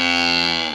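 A young bull calf on a farm gives one loud, close, drawn-out moo that fades at the end, with no voices over it.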